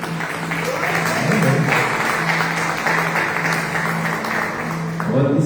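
A church congregation applauding during a sermon, a dense continuous wash of clapping filling the hall, with a sustained tone and voices mixed in underneath.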